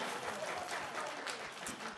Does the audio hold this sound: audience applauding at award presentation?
yes